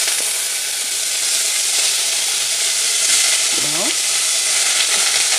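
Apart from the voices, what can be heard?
meat searing in a hot pan for stuffed cabbage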